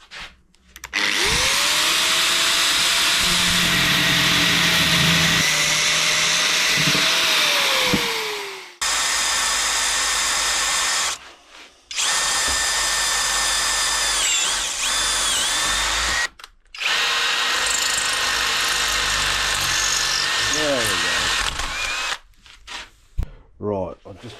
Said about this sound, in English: Right, I'm just drilling down the stand now.